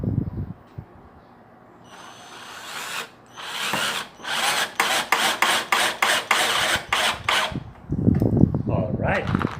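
A cheap Lomvum 12 V cordless drill drives 2-inch black screws straight into wood with no pilot holes, whirring in loud rhythmic pulses as it works, with a voice talking briefly at the start and end.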